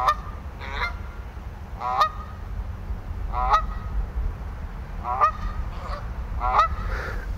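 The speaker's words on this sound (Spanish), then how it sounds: "Más adelante nos topamos con una parvada de gansos salvajes que están listos para hacer su interpretación para nosotros." A flock of wild geese honks in repeated bursts, about five clear calls spaced roughly a second apart, fairly close over a steady low outdoor rumble, with no talk.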